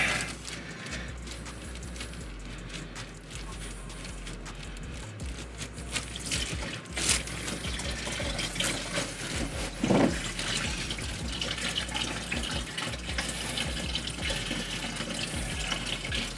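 Coolant pours from a low drain point of a 2014-2017 Chevy Caprice PPV cooling system, a steady close splashing stream of liquid with brief clinks, heard without talk.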